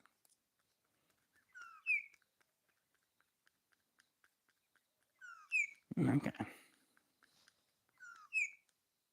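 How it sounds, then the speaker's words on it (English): A bird outdoors calls in short, clear two-note phrases repeated three times with pauses between, faint and nearby, broken once by a brief rustling noise and a spoken word. "How beautiful is that bird song?"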